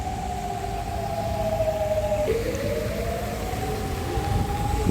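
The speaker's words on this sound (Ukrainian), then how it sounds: "в самому парку дуже гучна лунає повітряна тривога" An air raid siren wails loudly across a park in Kharkiv, a sustained rising and falling tone over steady outdoor noise, its pitch dipping and climbing again midway through.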